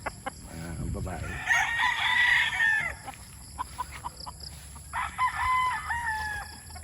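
An 8-month-old Sweater crossed with Boston Roundhead gamefowl rooster crows twice, each call long and clear over a rustling outdoor yard, with faint clucks between.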